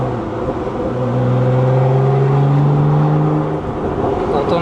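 A Lotus Emira V6 sports car with a Milltek exhaust in open mode revs loudly, a deep droning roar climbing steadily in pitch and then settling, close and continuous.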